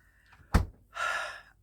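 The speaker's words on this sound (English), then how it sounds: "And the door shuts." A fridge door shuts with one solid, close thunk, followed by a breathy rush of sound about half a second later before things settle quiet.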